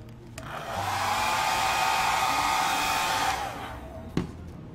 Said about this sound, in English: I can help it dry a little bit with my hair dryer.